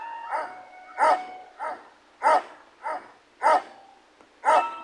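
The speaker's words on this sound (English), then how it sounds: "Oh no, it's going to bark." In the Bad Granny video game, a dog barks in a regular, evenly spaced series of about eight sharp, clear barks that alternate between softer and louder. No talking is heard.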